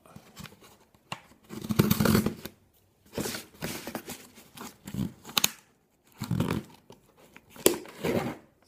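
Packaging on a small parcel being torn open by hand, several short bursts of ripping and crinkling paper or plastic separated by quiet pauses, close and fairly soft.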